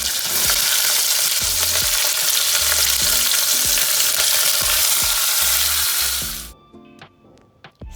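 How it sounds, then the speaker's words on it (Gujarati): Green chillies, onion and tomatoes fry with cloves, cardamom, coriander and cumin in a pan, making a loud, dense sizzle with rhythmic stirring clanks that cuts off abruptly near the end, leaving faint clinks. "હવે તેમાં લીલા મરચાં, ડુંગળી અને ટામેટાં નાખીશું।"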